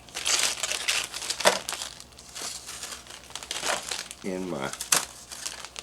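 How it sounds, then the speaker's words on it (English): Freeze-dried yogurt crumbled inside a plastic Ziploc bag gives bursts of dry crinkling and crunching, close and fairly loud, under a person talking. "we are going to crumble this all up, and I'm going to use the tried and trusted method of the Ziploc bag"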